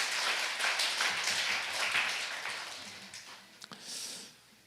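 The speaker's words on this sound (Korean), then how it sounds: "우리 하나님께 영광의 박수를 드립니다" Church congregation clapping during a worship service, a broad wash of many hands that holds steady, then thins out with a few separate claps near the end.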